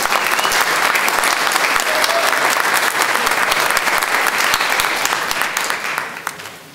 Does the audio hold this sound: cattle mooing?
no